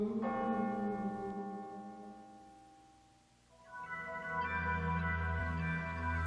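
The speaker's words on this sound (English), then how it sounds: "The bells rang out." Church bells ring out in slow, resonant strikes with long ringing tails, fading almost to silence before a second bell peal swells again, loud and reverberant with no voices.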